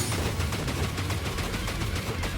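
Dense, continuous gunfire and explosions from the video game Elsie, a steady loud barrage of rapid shots with low booms running throughout.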